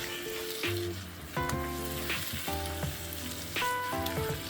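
Egusi frying in a pan, a steady close sizzle that runs through the whole stretch, with harmonic tones layered on top at intervals.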